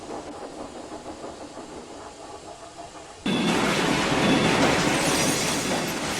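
A train rumbles and clatters on a single-track line, the noise jumping suddenly louder midway as it draws close, steady wheel clatter throughout.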